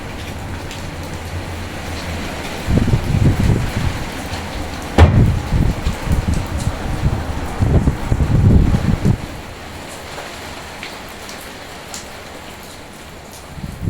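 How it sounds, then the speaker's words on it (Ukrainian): Steady outdoor rain in Kharkiv in late November gives a soft, constant hiss, with gusty wind buffeting and low rumbling swelling through the middle, then easing back to the quiet hiss. "Ну а дощ, от я вам показую"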